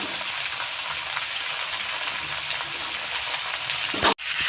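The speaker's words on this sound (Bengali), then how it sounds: "এবার কেটে ধুয়ে রাখা বাঁধাকপিটা দিয়ে দেবো।" Cabbage sizzles in a hot kadai, added after potatoes were fried with ginger and cumin for a Saraswati Puja bhog dish. A steady, close broadband hiss of frying runs throughout and breaks off sharply near the end.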